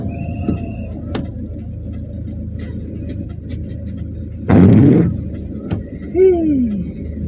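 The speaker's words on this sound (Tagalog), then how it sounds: "Ang traffic dito sa aming lugar." A car passes on a local residential street amid steady low traffic rumble. It swells into one loud broadband whoosh near the middle, then a brief rising tone and a short engine surge follow near the end.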